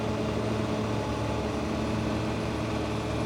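A massive excavator's diesel engine running steadily as it throttles down, a constant low rumbling drone with little change in level, close and alone without speech.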